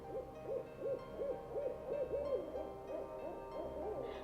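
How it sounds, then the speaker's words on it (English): A series of owl hoots repeats in a steady rhythm, each call a short rising-falling tone, with about a dozen calls at moderate distance over a faint night background. "Hark, the owl,"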